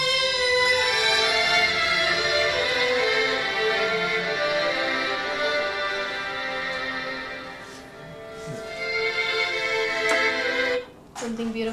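Classical music plays steadily for about ten seconds, a dense sustained blend of instruments with a full, even level, briefly cut off near the end.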